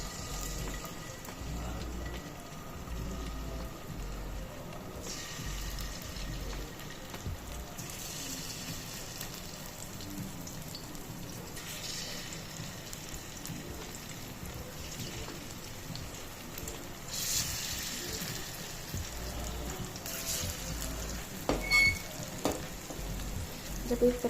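Besan suji kharda pieces fry in hot oil with a steady, broadband sizzle and crackle that runs unbroken throughout, swelling slightly near the end with a few sharper pops and spatters.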